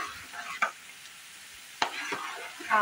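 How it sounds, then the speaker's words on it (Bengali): A low, steady sizzle of carrots frying in a pan for fried rice, interrupted by a few scrapes of stirring; quiet and without speech. "আর এইদিকে গাজরটা ভাজা হচ্ছে ফ্রাইড রাইসের জন্য।"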